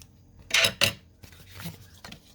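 Two quick scissor snips trim the protruding paper edge of a handmade junk journal envelope, sharp and close, followed by soft rustling of the paper being handled.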